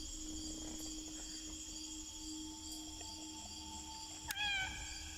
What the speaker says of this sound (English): Oh hell no, you ain't leaving this cat here.